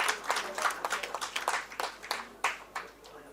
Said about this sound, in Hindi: जोरदार तालियां हमारे प्रतिभाशाली बच्चों के लिए।